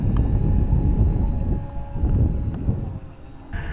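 A radio-controlled model airplane flying a knife edge, rolled on its side with rudder deflected, its motor droning steadily and loud throughout, with a slight dip in the middle before power comes back near the end.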